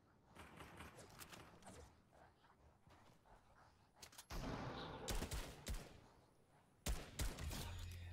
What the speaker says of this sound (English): I hear someone going a little hog wild with their AK over here